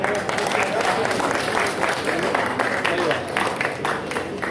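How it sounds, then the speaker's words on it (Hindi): Crowd at an Ambedkar road inauguration gathering clapping loudly and continuously for several seconds, dense and close, with voices mixed in. "जोरदार तालियां भाषा जी के लिए।"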